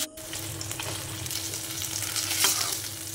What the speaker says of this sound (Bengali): তারপর বাকি মাছগুলোও ভাজতে দিয়ে দিলাম।